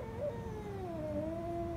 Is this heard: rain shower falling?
no